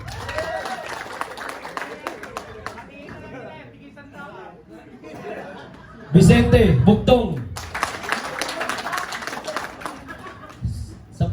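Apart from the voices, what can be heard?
applause at Christmas party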